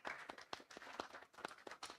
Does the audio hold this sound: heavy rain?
no